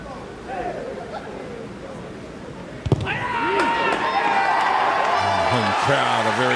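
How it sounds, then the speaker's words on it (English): Home crowd at a Japan v Canada Pacific Nations Cup rugby match erupts into loud, sustained cheering after a sharp burst around the three-second mark, building into a broad roar with talk beneath it. "Home crowd are very happy as the ball sails through the uprights."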